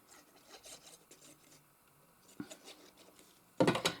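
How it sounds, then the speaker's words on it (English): Folds in a paper card are burnished by hand, giving soft, scattered rubbing and rasping strokes that stay quiet and close. A louder scrape comes near the end. "Make sure you burnish all of your folds though."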